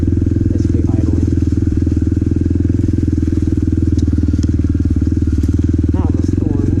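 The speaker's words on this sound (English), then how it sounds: "So we're going back here with an even louder exhaust this time." Motorcycle fitted with a very loud aftermarket exhaust, held in third gear near idle, rumbling steadily and close throughout with a rough, throbbing low drone and faint clatter.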